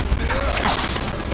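A Bombarda spell blast from the Hogwarts Legacy video game erupts as a loud, close crashing burst with a rushing rumble, lasting about a second before cutting off sharply.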